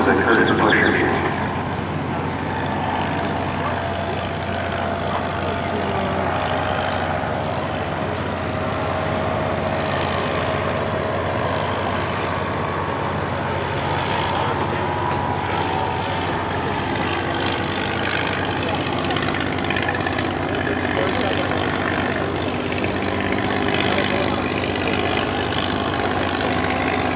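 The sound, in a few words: 1911 Curtiss pusher biplane engine and propeller in flight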